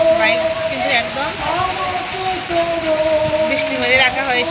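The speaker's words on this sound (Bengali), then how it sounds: "এখন শুধু বৃষ্টি হচ্ছে।" Steady rain falls outdoors where a motorbike is parked in the open. It makes a continuous even hiss at moderate level, with a faint tonal hum running underneath.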